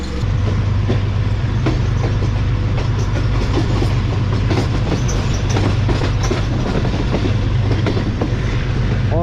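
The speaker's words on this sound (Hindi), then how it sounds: "ट्रेन फाइनली मूव होना शुरू हो चुकी है गुजरांवाला से" The Subak Raftar railcar rolls from Gujranwala toward Lahore, heard from on board as a loud, continuous rumble with rhythmic clickety-clack of the wheels over the rail joints.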